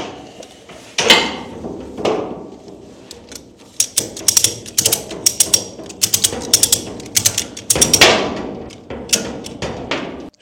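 A small ratchet strap being tightened during work on a jet boat gives loud, close clicks and clunks, first a few heavy knocks and then a rapid uneven series of sharp ratcheting clicks, with no talking.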